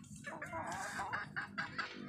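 Chickens clucking nearby, a run of short, repeated clucks in quick bursts over a soft background.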